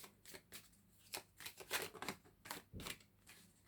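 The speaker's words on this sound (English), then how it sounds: "I hate having to shuffle these cards" A stiff deck of oracle cards shuffled by hand, close crisp rustling flicks in short uneven bursts over a few seconds, with no talk.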